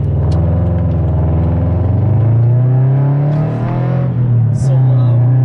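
Subaru BRZ fitted with a new front pipe and over pipe accelerating, a loud, low, droning exhaust note that climbs steadily in pitch, heard close from the car with a voice speaking over it.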